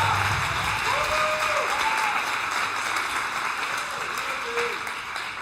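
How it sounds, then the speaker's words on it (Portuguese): Church congregation applauding during a worship service, a steady wash of clapping that holds evenly throughout, with a sustained tone or voice faintly audible beneath it. "Aplauda o Senhor Jesus."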